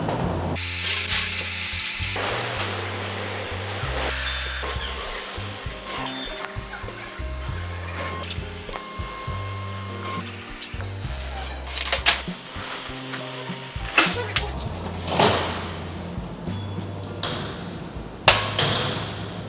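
A laser welder welding metal in a tight spot gives sizzling, crackling noise over a steady machine hum, with choppy bursts and pauses that grow sharper and more intermittent toward the end.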